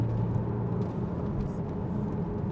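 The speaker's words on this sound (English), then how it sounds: "Listen to that engine." A 2013 Porsche Boxster S 981 with a 3.4 litre engine and PDK gearbox, heard from the cabin on a test drive: a steady, low engine drone with road rumble, continuous and fairly loud.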